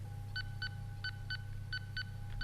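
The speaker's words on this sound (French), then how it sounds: "on entend les bips qui sont finalement assez lents, assez éloignés puisque la corde est longue" Electronic beeps mark each swing of a long-string pendulum at a science exhibit, with pairs of short tones spaced slowly and evenly over a steady low hum from the room.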